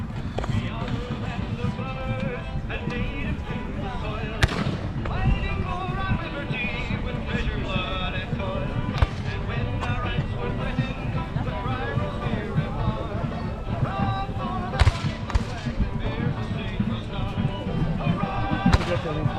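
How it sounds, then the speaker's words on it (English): Artillery cannon fire at a Gettysburg battle reenactment on an outdoor field, with a few sharp booms rising over constant wind-buffeted crowd noise and nearby chatter. "I already got artillery going off"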